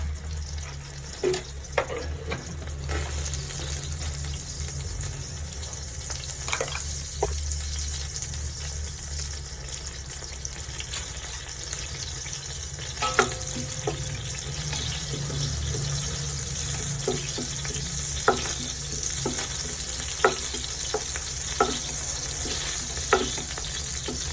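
Whole spices, a piece of cinnamon stick and star anise, sizzle steadily in hot oil for prawn biryani, with scattered clicks and scrapes of stirring over a constant frying hiss.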